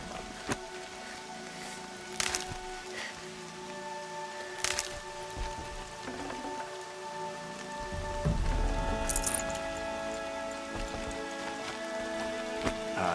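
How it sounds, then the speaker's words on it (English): Rain falls steadily in the video game Horizon Zero Dawn, a soft continuous patter with occasional sharper drips and a low rumbling swell toward the end, with no talking. "Everything's sharp and looming in the rain."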